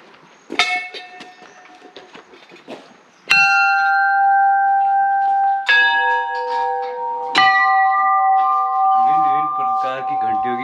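Temple bells ring at Haat Kalika temple in Gangolihat, several loud metallic strikes leaving long sustained tones that overlap and layer, after quieter footsteps and faint background sounds at the start.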